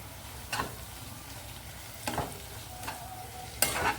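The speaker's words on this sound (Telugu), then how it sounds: "కొంచెం ఈ 4 రబ్బలు కరివేపాకు వేస్తున్నా అండి" Four sprigs of curry leaves drop into hot oil in a pan, each toss sparking a short crackling sizzle burst, four quick bursts spread over a few seconds above a faint steady frying hiss, close and fairly quiet, no talk.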